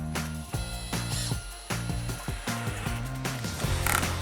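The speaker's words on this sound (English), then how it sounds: "And now I can just drive in these 2-inch deck screws." A power driver sinks 2-inch deck screws into the wooden slats of an Adirondack chair, in several close, loud bursts of whirring motor whine that rises and falls, with ratcheting clicks between runs and no talking.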